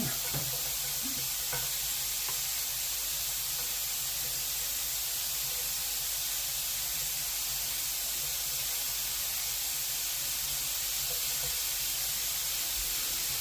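Pork pieces browning in a hot pan for a casserole, a constant close hiss and sizzle with faint crackles, steady and unbroken.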